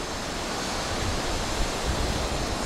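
Ocean surf washes onto a beach in Chumphon, Thailand, as a dense, steady roar of breaking waves with slight swells in loudness, close and without any talking.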